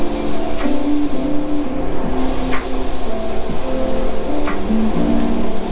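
Airbrush spraying paint while making graffiti-style hats, a steady close hiss of compressed air with a faint compressor hum and a few light taps, continuous and fairly loud.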